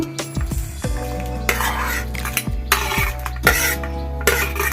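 A spoon scrapes and clinks around a metal pot of sheer khurma as ghee-fried dry fruits are stirred in, giving repeated sharp strokes over a steady low simmer, close and moderately loud with no voices.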